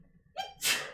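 A single close sneeze, with a short sharp intake of breath followed by a loud, breathy burst.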